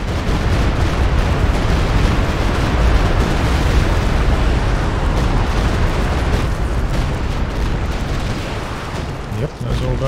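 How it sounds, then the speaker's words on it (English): Howitzer artillery barrage in Company of Heroes 2, a dense, continuous roar of overlapping explosions and booms that stays loud throughout, with battlefield noise layered on top. "Howitzers first."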